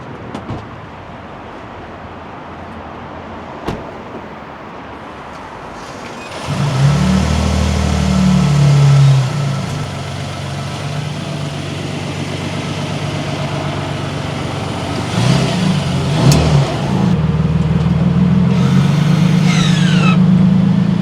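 Toyota Sequoia TRD Pro, its engine idling low and then revving hard and accelerating in loud surges, with a brief lull before a second strong rev and sustained pull, no speech.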